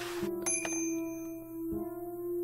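Bell rung in the point-and-click game Day of the Tentacle, several bright metallic dings in quick succession with long ringing tails, then another strike later, clear and alone.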